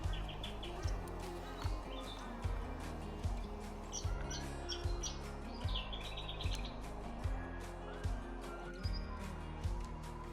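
Small birds chirp and tweet repeatedly at Tinchi Tamba Wetlands in Brisbane, where a flock of red-browed finches feeds on grass seeds, the calls scattered and fairly close over a low, steady rumble of background noise.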